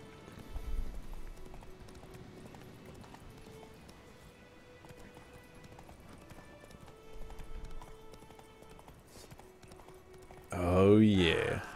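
Hoofbeats of a horse galloping in The Witcher 3, a steady clip-clop rhythm under game music, with a loud burst of other game sound near the end.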